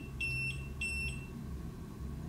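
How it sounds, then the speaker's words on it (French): A Fukuda green 12-line self-leveling laser level, tilted past three degrees, gives two short, high electronic beeps about half a second apart, then falls quiet over a low room hum. "si on dépasse les 3 degrés, voilà, il bip parce que c'est trop et il peut pas se niveler à un tel niveau"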